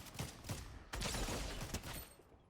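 Rapid bursts of automatic gunfire in the Fortnite Battle Royale video game, a dense stuttering fusillade that pauses briefly and then resumes louder, with no talk over it.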